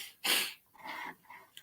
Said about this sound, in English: Oh, I sneeze, hold on.